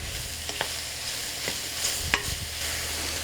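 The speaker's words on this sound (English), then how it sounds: "So you can hear the sizzling" Mushrooms fry in clarified butter in a hot pan with a steady soft sizzle, broken by a few sharp scraping stirs and light clicks of a utensil, close and fairly quiet.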